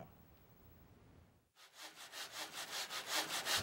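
A cartoon hand saw cuts through a wooden board in quick, even rasping strokes that grow louder and rougher after a short quiet pause.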